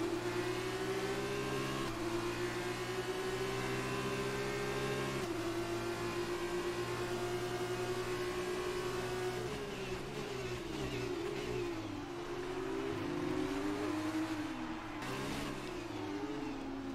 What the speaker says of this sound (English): Now we're going to try and overtake De Vries.